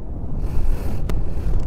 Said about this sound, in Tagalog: Lakas ng hangin, humuhuni.